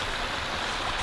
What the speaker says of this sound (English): Got our waterfall back.